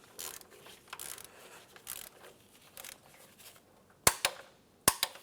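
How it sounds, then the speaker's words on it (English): A torque wrench tightens engine mount bolts to 40 foot-pounds on a 2011-2016 Hyundai Elantra, with soft ratcheting passes followed by two sharp, loud clicks near the end. "We're going to torque down to 40 foot-pounds."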